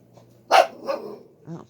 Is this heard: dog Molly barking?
yes